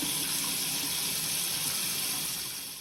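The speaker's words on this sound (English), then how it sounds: "I'm gonna just turn it on just barely so you can see how well the water output is" Water runs steadily from a Mr. Faucet bathroom sink faucet opened only slightly, a close, even hiss of flow that eases off a little at the end.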